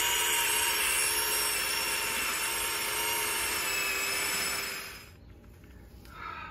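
An auger drill bores a hole into garden soil just outside a new planting's root ball to install a Root Quencher deep watering device, a steady grinding whir for about five seconds that then stops, leaving quiet.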